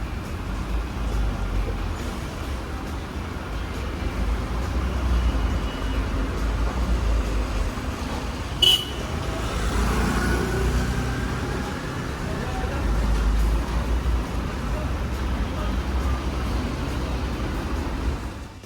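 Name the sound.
taxi and street traffic at night in Delhi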